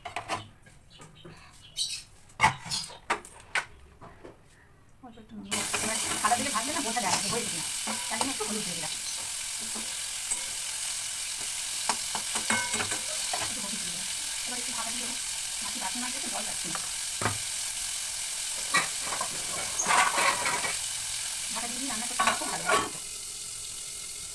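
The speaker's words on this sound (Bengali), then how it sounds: "মাছটাই আগে ভেজে নিই" Fish rubbed with salt and turmeric hits hot oil in a kadai on a home kitchen stove, starting after a few seconds as a loud, steady, crackling sizzle that continues throughout. A voice talks briefly near the start.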